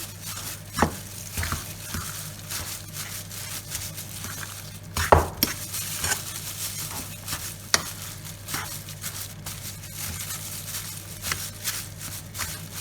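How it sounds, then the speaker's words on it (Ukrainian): Flour being stirred into cottage cheese batter for syrniki, soft scraping and tapping strokes in an uneven rhythm, fairly quiet and close, with one sharper knock near the middle and no speech. "Тепер муку і теж перемішуємо."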